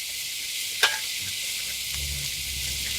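Onions and mushrooms sizzle steadily on a heated flat-top griddle with burners set to low, a constant close hiss broken by one sharp clink of a utensil and soft scraping near the end.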